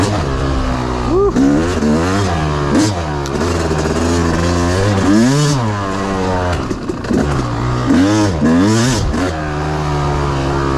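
Yamaha YZ 250 two-stroke dirt bike with a woods setup, engine revving and blipping up and down in quick sharp throttle sweeps, loud and close throughout, with rising and falling pitch.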